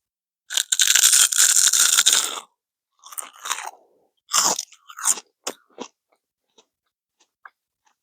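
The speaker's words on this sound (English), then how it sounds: "I don't even know if you can pick up my chewing." A mouth chomps on crisp seaweed chips up close, starting with a sustained loud crunching run, then a scatter of shorter crunches and bites that fade into a few faint clicks.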